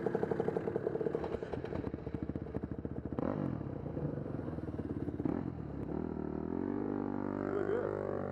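A motorcycle engine pulls a standing rider, pulsing rapidly at first, then rising and revving harder into a loud sustained drone nearby.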